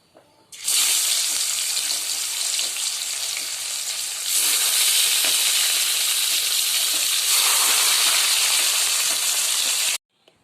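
Fish drop into hot oil and fry with a sudden loud hissing sizzle that starts abruptly, swells even louder midway, and holds steady before stopping sharply.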